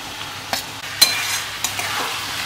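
Prawns hit hot spiced oil in a pan and fry with a steady sizzle, while a utensil stirs them in a few sharp scrapes and clinks spread across the short stretch.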